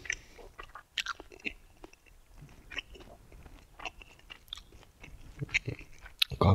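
Close, crunchy chewing and biting of Mexican-style corn coated in breading and eaten straight off a skewer, with repeated irregular crunches and mouth sounds and a louder bite near the end.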